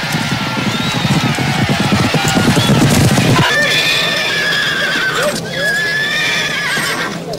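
A horse at a bluegrass breeding farm, fourth generation of a line, whinnies loudly and repeatedly over steady, rhythmic hoofbeats on hard ground. The neighs are close and strong and carry through the second half.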